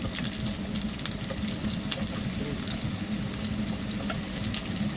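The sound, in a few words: sautéing garlic, onion and ginger in a pan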